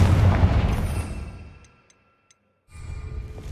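A fire spell explosion in the Hogwarts Legacy video game, heard as a loud, close boom with a heavy low-end burst that fades over about a second and a half, followed by near silence, then game ambience resuming.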